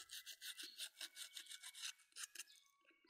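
Sandpaper rubbed by hand over the damaged sole of a safety shoe, a close, quiet series of rapid rhythmic rasping strokes that slow slightly toward the end.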